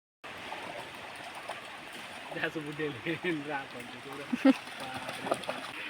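A village river where cattle are brought down to the water, with a steady close rush and trickle of flowing water running through the whole clip while people talk over it.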